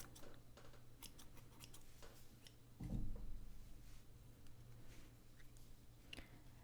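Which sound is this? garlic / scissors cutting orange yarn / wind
scissors cutting orange yarn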